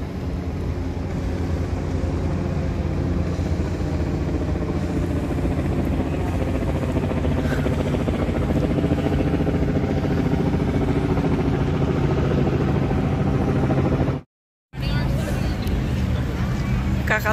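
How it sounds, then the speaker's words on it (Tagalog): A helicopter flies over Toronto city traffic, a continuous broad rotor and engine rumble that stays steady throughout and then cuts off briefly near the end. "Helicopter pa."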